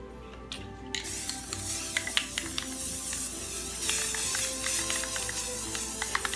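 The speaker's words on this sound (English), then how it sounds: "I'm gonna spray paint them" A spray paint can hisses steadily as thrift-store picture frames are coated, a close, continuous airy spray starting after a short pause, with faint taps and clicks underneath.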